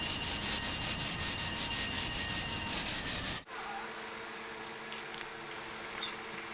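Rapid back-and-forth rasping of hand cross-sanding auto body finishing glaze, close and rhythmic, stops abruptly halfway, leaving a quiet room hum.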